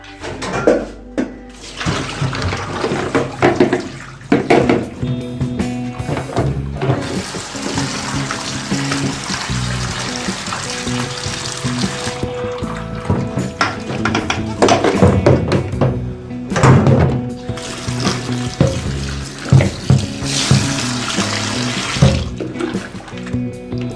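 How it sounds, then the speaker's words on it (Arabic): Sliced potatoes being washed under a running kitchen tap, a loud steady gush of water with splashing, occasional clunks and handling noises throughout, no talking. "هغسلها بقى واصفيها في المصفى"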